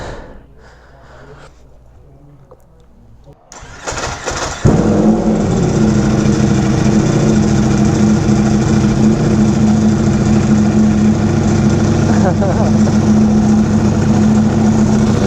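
An Aprilia RSV4 Factory motorcycle engine starts after a few seconds of quiet, then settles into a loud, steady, rumbling idle with a strong low hum that holds close to the microphone to the end.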